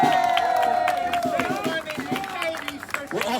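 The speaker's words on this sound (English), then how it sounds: "Round of applause for all of them." A crowd at an outdoor street rally cheers and claps, with whoops and shouting voices layered over scattered applause, loud and close, fading slightly midway before rising again.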